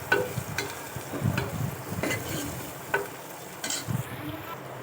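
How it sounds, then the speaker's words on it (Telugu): Turmeric being stirred into tomato rasam in a pot, with a steady scraping, swishing stir and recurring soft clinks of the spoon against the pot over a low simmering sizzle, close and continuous with no talk. "సగం స్పూన్ పసుపు వేసుకొని బాగా కలపాలి"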